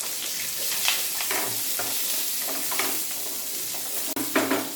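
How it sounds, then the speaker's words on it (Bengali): Chopped garlic, onion and capsicum fry in hot oil for chilli chicken fried rice, a loud, even sizzle with soft stirring scrapes and a brief clack near the end, no talking. "এবার আমি রসুন কুচি তেলের মধ্যে দিয়ে দেব। পেঁয়াজ, ক্যাপসিকামটাও দিয়ে দেবো।"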